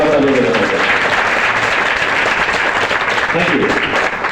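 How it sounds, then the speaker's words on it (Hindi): Loud, steady applause from a seated business audience at an RCM campaign event, honouring the support staff, with voices mixed into the clapping throughout. "एक बार उनके सम्मान में भी जोरदार तालियां बजाना चाहते हैं"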